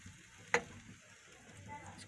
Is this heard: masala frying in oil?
yes